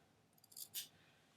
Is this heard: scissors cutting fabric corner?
yes